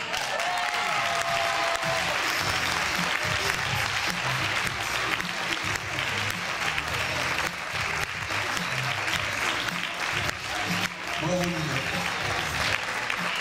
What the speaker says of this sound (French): vous pouvez applaudir vivement nos demoiselles d'honneur